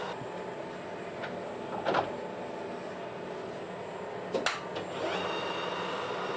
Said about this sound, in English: It's a really quiet machine, the Colchester, isn't it?